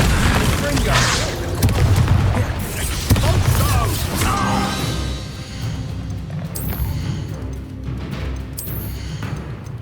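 Confringo explosive spell blasts in Hogwarts Legacy, heavy booms and crashing impacts amid battle noise, with characters shouting spells and lines over the fight.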